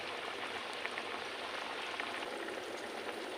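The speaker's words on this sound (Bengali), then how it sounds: "এই যে ফুটছে" Milk with ridge gourd bubbling in a pot, a steady fizzing simmer with small pops, close and even, with no talking over it.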